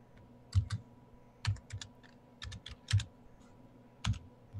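Typing on a computer keyboard while entering search keywords: short clustered bursts of quiet clicking keystrokes at close range, separated by brief pauses, with no voice.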